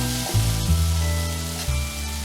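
Tomatoes and onions sautéing in a pan for a jackfruit-seed curry, a steady sizzle with a few soft stirring scrapes, close and moderately loud with no talking.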